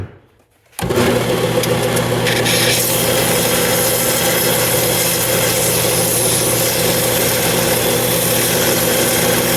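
A wooden handle for a tomahawk forged from a railroad spike has its top edge trimmed. After a moment of quiet, a loud, steady, rasping grind starts and runs without a break to the end.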